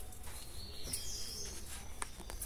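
A small caged songbird gives a few faint, brief chirps over a quiet, low background hum, with no talking.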